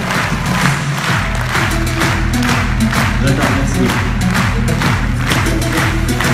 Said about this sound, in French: applaudissements très chaleureux pour elle